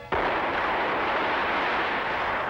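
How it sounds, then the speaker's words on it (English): An atomic test explosion effect in a cartoon bursts in suddenly and holds as a loud, dense roar that rumbles on without easing. "the first atomic test explosion"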